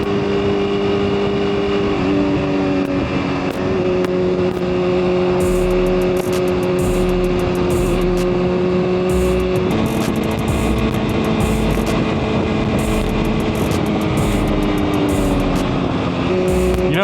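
A 2024 BMW M1000RR motorcycle engine drones loud and close while riding, holding steady tones that shift pitch a few times as the revs change. The sound stays continuous and dense the whole way through.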